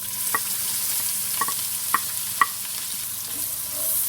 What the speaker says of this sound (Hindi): थोड़ी देर इसको हम फ्राई करेंगे।